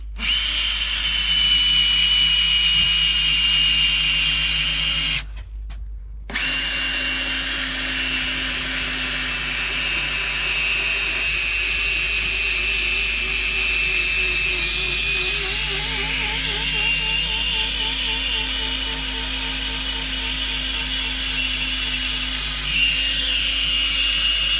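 A power drill with an 18-inch auger bit whirs steadily as it bores into green oak, pausing briefly partway, then grinding on with a slowly shifting, labored pitch.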